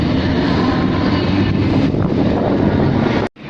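A locomotive engine at Seawoods railway station, a loud, steady low roar with broadband rumble and wind buffeting that holds for about three seconds before cutting out abruptly near the end.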